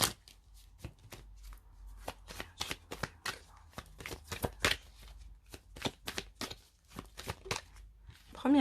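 Tarot cards are handled, shuffled and drawn close up, a series of sharp, crisp card snaps and slides in an uneven rhythm against a quiet background.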